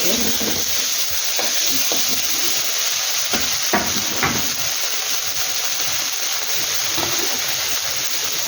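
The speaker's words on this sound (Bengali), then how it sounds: "এটাকে ফ্রাই করে নেবে ভালো করে" Spice paste fries in oil in a pan for a catfish curry, a loud constant sizzle broken by a few stirring scrapes.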